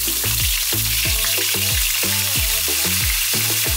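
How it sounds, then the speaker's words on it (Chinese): Breaded pork chop coated in flour, egg and breadcrumbs frying in a pan, giving a steady, loud sizzle throughout with music-like tonal patterns layered on top. "我们把这个排骨先放进去煎一下啊。"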